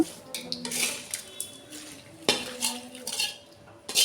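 A spoon scrapes and clinks against a metal vessel as cooked rice is stirred with a tempering for tamarind pulihora, in close, irregular bursts with quieter pauses between.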